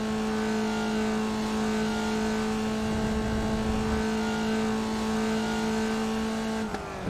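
A race car held in third gear through the corners at Laguna Seca, its engine a loud, close, steady drone with strong harmonics that shifts abruptly right at the end.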